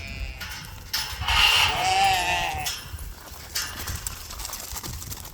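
Several sheep bleat on a farm as they are herded along, a few wavering calls up close amid shuffling hooves and rustling, with no talking.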